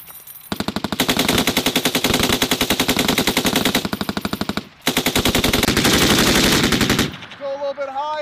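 An M240B or M249 machine gun fires long sustained bursts on a range, loud and close, with a brief pause between two strings of rapid shots before the firing stops.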